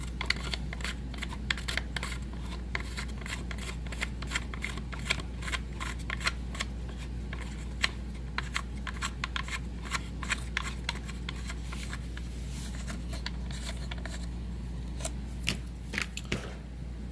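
Small metallic clicks and ticks sound as a T-nut is wound by hand into a threaded hole in a T-TRAK model railway module, irregular light taps repeating over a steady low hum.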